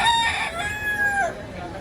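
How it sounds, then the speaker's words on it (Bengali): A native desi rooster at the crowded Galiff Street pet market in Kolkata lets out a single loud, close crow that rises and trails off within about a second and a half. "এখানে রয়েছে দেশি মুরগি"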